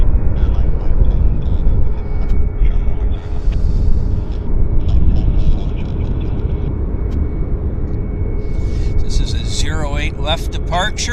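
An aircraft departs from the north runway at Vancouver Airport, a loud, rumbling engine roar running throughout, with a voice talking briefly near the end.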